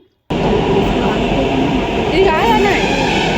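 A metro train ride from Musapet, with a loud, steady carriage rumble and hiss throughout and voices talking over it.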